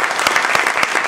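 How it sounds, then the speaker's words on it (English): Audience applause after a club speech presentation, a brief dense burst of many hands clapping at close range with no voices. "Let's give him a round of applause."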